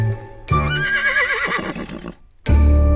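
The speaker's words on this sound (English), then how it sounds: "And here we have the skeleton horse." A Minecraft skeleton horse from the video game neighs in a long, wavering whinny, followed by a short pause and then another loud burst.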